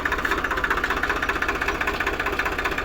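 A tractor engine idles and chugs steadily nearby with a rhythmic knocking pulse, the machine working to free a second tractor stuck fast in the ground.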